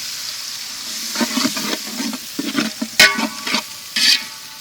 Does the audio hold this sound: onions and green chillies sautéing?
yes